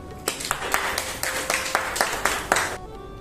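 Audience at a contest event clapping in a steady, fairly quick rhythm of distinct claps, close and moderately loud, fading out near the end.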